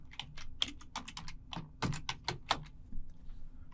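A password is typed on a computer keyboard in a quick run of crisp, close key clicks with short pauses between bursts, with no talking.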